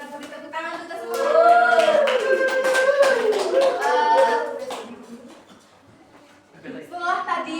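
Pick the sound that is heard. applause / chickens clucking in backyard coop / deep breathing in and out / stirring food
applause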